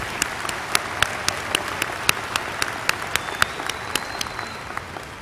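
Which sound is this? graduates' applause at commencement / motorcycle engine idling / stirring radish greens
graduates' applause at commencement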